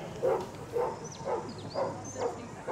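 Two Huntaway sheepdogs bark deep and loud while herding sheep at a rural games event in New Zealand. About five evenly spaced barks ring out in a steady rhythm over outdoor background noise.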